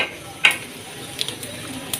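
Cumin seeds tossed into hot oil in a pan while cooking Lahori chana, giving a quick crackling sizzle burst, then faint scattered pops and spits over a low frying hiss.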